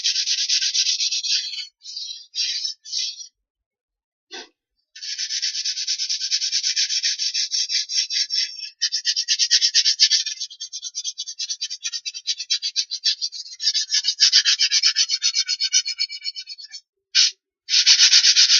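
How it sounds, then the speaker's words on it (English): Sandpaper rubs steadily along the edges of a wooden bug screen frame, a close, continuous scratchy rasp in long strokes broken by a few short pauses. "we have to sand now very carefully. We sand now the long sides,"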